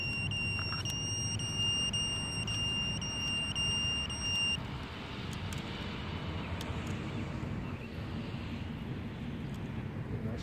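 A buzzer on a Walkera Rodeo 150 drone beeps as steady high tones for the first few seconds, then stops, outdoors in an open field over strong wind noise.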